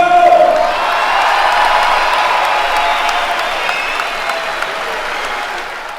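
An indoor trial motorcycle arena crowd applauds the champions, a broad wash of clapping with scattered cheers and whoops, loudest at the start and then holding steady.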